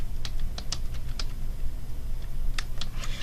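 Password keys tapped on a computer keyboard in irregular, close clicks with short pauses, over a steady low hum and no talk.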